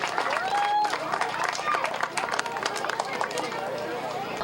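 A crowd cheering and applauding for youth soccer coaches at a finals award podium, a steady wash of clapping and whoops with a few whistles, heard under a speaking voice.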